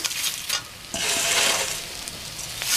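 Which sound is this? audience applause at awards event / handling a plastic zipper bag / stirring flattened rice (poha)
stirring flattened rice (poha)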